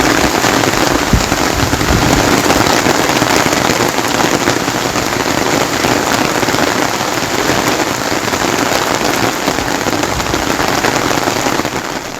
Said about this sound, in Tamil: பலத்த காற்று மற்றும் இடி மின்னலுடன் கூடிய கனமழை பெய்தது